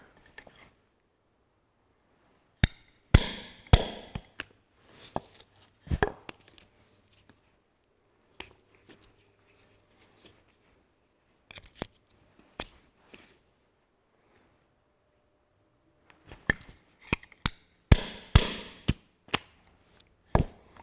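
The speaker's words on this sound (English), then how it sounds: "Very easy to cut, but I did sharpen the punch up." A sharpened hole punch is struck to cut rubber for a Ferguson tractor dash kit, producing sharp, isolated knocks and clusters of taps separated by quiet pauses, close and dry.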